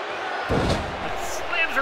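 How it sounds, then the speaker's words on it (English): A wrestler slammed into the turnbuckle during a women's wrestling match, one heavy thud halfway through, under a commentator's voice and crowd noise. "And slams her into the turnbuckle"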